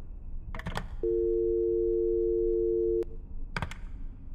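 Telephone tone sounding in a horror video game, a single steady electronic hum that holds for about two seconds and then cuts off sharply, with brief clicks and rustles before and after it.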